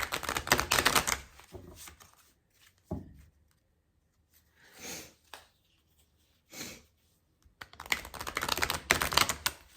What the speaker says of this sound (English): I'm being told to shuffle this way